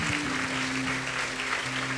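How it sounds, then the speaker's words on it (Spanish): Steady applause fills a church service, dense and continuous throughout with a sustained sung or organ-like tone running underneath. "Un aplauso."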